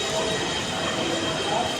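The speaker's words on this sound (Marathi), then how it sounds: "आता हे आम्ही रेल्वे स्टेशनवर पोचलो आहोत" Train at a railway station in Switzerland, on the route from Basel toward Rigi Mountain, where a steady rumbling platform din carries a faint squeal, with no clear voices.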